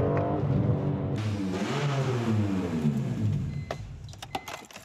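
A BMW M3 E46 engine runs loud and close, its note sweeping up and down through several rev changes before settling into a rougher, broader roar with a few sharp clicks near the end.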